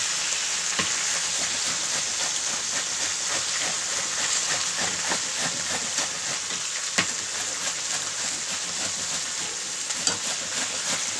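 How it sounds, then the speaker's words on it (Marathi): Grated radish goes in with radish leaves in a hot iron pan, making a loud, even frying sizzle with a faint scratch of stirring and a few sharp clacks, heard near and alone. "आणि आता मुळ्याचा किस टाकत आहे"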